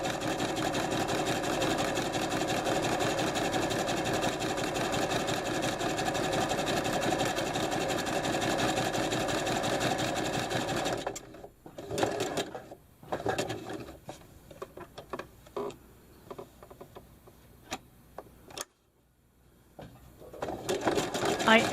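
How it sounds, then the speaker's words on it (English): A Juki sewing machine satin stitching around thick postcards on a folding table: a steady fast mechanical whirring for about eleven seconds, then stop-start bursts of stitching with pauses and clicks. "Here I'm using my Juki machine on a folding table"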